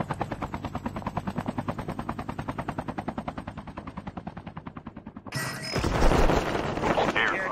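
Gunfire and a helicopter in the Call of Duty Mobile battle royale game, a fast rhythmic burst of machine-gun fire that runs steadily for several seconds before a louder, rougher roar of rotor and blasts takes over.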